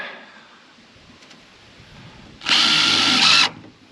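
A power drill drives a screw into roof studs while tiny house soffit and roof edge framing is built, one loud, close whirring burst of about a second after quiet rustling.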